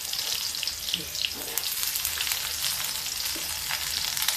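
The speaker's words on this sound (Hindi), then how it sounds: "ये हम बाद में छिड़कने लिए तल रहे हैं" Sliced onions fry in oil in an iron kadai over low gas, giving a steady broadband sizzle with light scraping and clinks throughout, moderately close and alone.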